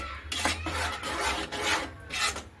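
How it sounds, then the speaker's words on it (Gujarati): A spoon stirs cream into cashew curry in a pan, giving loud rhythmic scraping strokes, about five sweeps in quick succession, close and with no voices. "મલાઈ એડ કરીને સારી રીતે હલાવી લેવાનું છે એકદમ સરસ રીતે."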